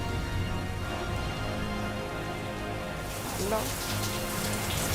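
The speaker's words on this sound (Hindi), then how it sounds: "इतनी बारिश है, इतनी बारिश है।" Heavy rain falls steadily throughout, a dense continuous hiss that swells louder and brighter in the final seconds, with no voices present.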